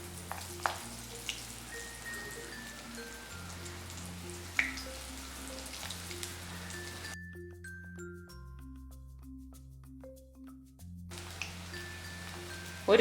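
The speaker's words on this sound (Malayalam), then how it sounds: "എണ്ണ ചൂടായി വരുമ്പോഴേക്ക് ഈ ഓരോ റിങ്സും ഇതിലിട്ട് ഫ്രൈ ചെയ്തെടുക്കാം." Onion rings deep frying in hot oil give a soft, steady crackling sizzle that runs throughout beneath a quiet musical melody, with a few sharper pops standing out.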